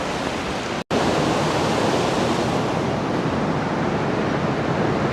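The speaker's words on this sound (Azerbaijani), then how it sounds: "Azərbaycanın ən hündür şəlaləsi," Mucuq waterfall, the highest waterfall in Azerbaijan, gives a loud, steady, close-up roar of falling water that fills the whole clip, broken only by a very brief dropout near the start.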